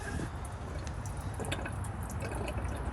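Water flushing and draining out of the holding tanks of an Airstream trailer, a steady, continuous wash of running water with faint drips, heard alone.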